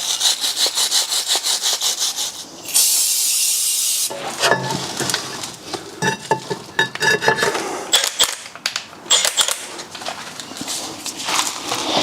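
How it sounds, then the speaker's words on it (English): A wire brush scrubs a brake caliper carrier on a BMW E63/E64 6 Series in rapid back-and-forth rasping strokes, close and loud, with one brief steadier grinding stretch partway through. "Just give the carrier a good clean up with the wire brush."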